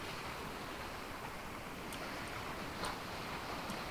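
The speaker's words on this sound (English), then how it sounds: "And the waves are large," Large ocean waves in the sailing video game Sailwind wash in a steady, broadband roar, with a few faint creaks and ticks layered over the continuous surf.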